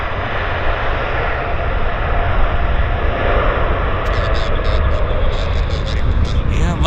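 An airliner landing at Vancouver airport roars under reverse thrust, a loud, dense, continuous rush of engine noise with no break, heard from a distance outdoors.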